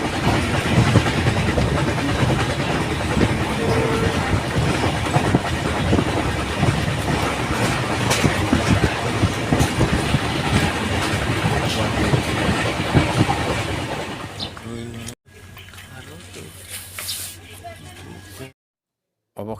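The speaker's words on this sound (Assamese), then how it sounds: "অৱশেষত মই ট্ৰেইনত উঠিলোঁ, আৰু ট্ৰেইনত উঠি পেলাই মই নিজৰ চিটত বহি ল'লোঁ।" A train runs along the rails, heard from a seat inside the carriage: a loud, steady rumble with rhythmic clickety-clack that fades out partway through, followed by quieter interior sounds.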